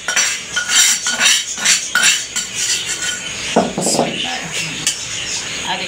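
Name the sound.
mixing ginger, garlic, chillies and onion in pot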